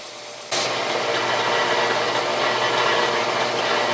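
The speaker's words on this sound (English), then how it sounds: "just going to turn the sander on, round these front edges quick" An electric sander switches on abruptly and runs steadily, rounding the front edges of a wooden toy pickup truck with a loud, constant grinding whir close by.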